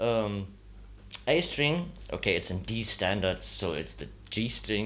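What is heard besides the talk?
No everyday noise stands out behind the speech.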